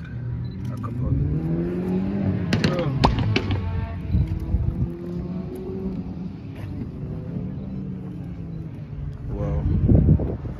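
A BMW M3 V8 exhaust revs at a skidpan, with rising and falling engine tones and sharp crackling pops, heard under people talking nearby.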